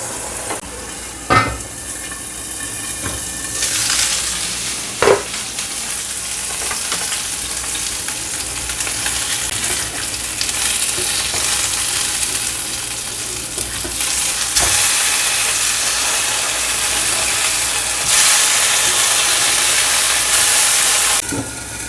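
Garlic fries in a hot pan, giving a loud, steady hiss and sizzle that surges at times, with occasional sharp clinks of a spatula stirring it.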